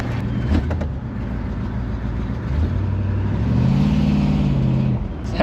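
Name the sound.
383 Chrysler Newport engine running and revving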